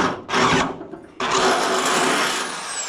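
A power drill bores a hole with its bit while the Massey Ferguson 95X control is being installed. It whines loudly in two runs, a short burst, a brief drop, then a long steady drilling stretch, close to the microphone.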